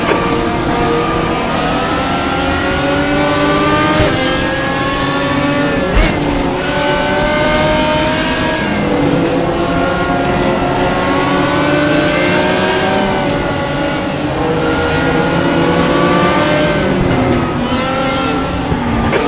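The Canhard R51 race car engine in Raceroom at Suzuka roars loudly and continuously, rising and falling through revs and gear changes, with other cars close by.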